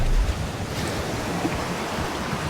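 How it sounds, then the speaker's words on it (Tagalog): Sea waves wash steadily over a pebble beach at low tide at a resort in Batangas City, a continuous close rush of surf with a slightly louder surge at the start and no voices. "Tumataas-taas na yung palo ng tubig."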